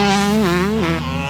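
A Hardcore Racing Yamaha YZ125 two-stroke motorcycle screams at high revs while being ridden, its buzzing engine note dipping and rising steadily, close and loud, with no voices.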